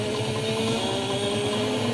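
A steady, buzzing motorcycle engine drones continuously at an even pitch as it runs down a tunnel, loud and close, with no voices.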